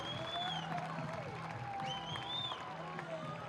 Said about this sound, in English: Listen to this crowd getting fired up